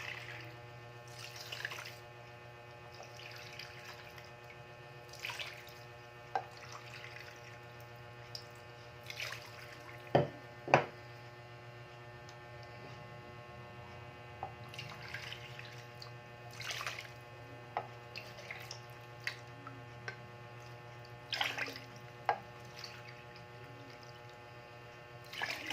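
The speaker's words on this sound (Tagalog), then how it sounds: "Lagyan natin ng tubig ng 6 na cups." Water pours into a cooking pot in short bursts with splashes, over a low steady hum from the room, no voices.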